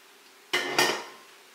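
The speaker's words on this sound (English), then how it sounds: "You can hear them popping." Canning jar lids on pepper relish pop after water-bath processing: two sharp metallic pops in quick succession, close and fairly loud against a quiet kitchen background, with no talking.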